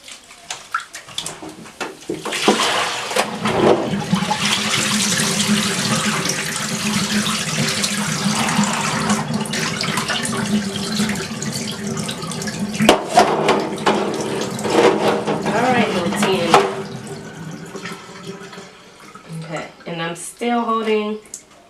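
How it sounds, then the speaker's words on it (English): Apple cider vinegar is poured over old braiding hair in a sink, giving a steady, loud splashing rush of liquid that runs for a long stretch before tapering off. A person talks over and after the pour. "pour out this apple cider vinegar"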